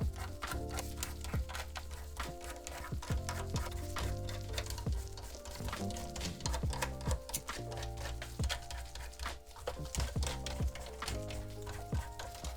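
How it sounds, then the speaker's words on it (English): Screws are taken out of a smoke- and dust-damaged PS4 Slim console in a quick, irregular run of small close ticks and clicks of the screwdriver, fairly faint, with no talk. "And now we are going to take out many screws."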